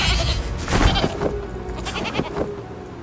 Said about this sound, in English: I think I just turned that wolf into a sheep